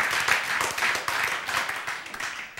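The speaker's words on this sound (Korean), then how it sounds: "맞았어. 박수." Listeners at a Korean Christian lecture clap briefly in a quick, uneven patter of hands, moderately loud and fading after a couple of seconds.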